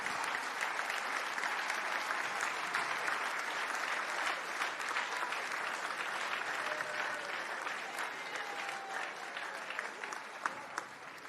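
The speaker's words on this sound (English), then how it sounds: "Let us honor them with a round of applause." A large conference audience at a plenary session claps steadily in sustained, dense applause that holds level for the whole stretch, with no voices over it.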